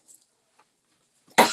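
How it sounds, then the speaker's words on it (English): A single sharp cough bursts out near the end after near silence, close and loud, following a faint breath or throat noise at the start. "I'm about to cough."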